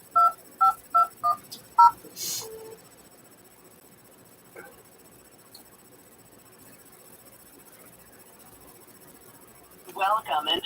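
Touch-tone keypad beeps dial into a conference call line, five quick evenly spaced tones near the start, then a long hush before the line connects with a burst of sound at the end.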